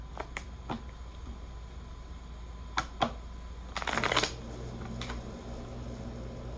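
A deck of cards is riffled once in a quick rustling burst, with a few scattered clicks and taps before it over a steady background hum.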